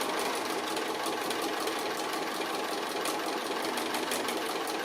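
Sewing machine running continuously with a banana quarter-inch foot, stitching fabric edges for an envelope pouch made from 2½-inch strips; a steady, close, fairly loud mechanical whir with rapid needle chatter throughout, no talking.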